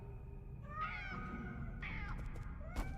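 Cats meow in the video game Nine Sols, several drawn-out cries in a row that overlap a steady low game background, with a brief sharp sound near the end.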